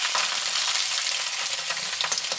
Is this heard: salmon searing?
yes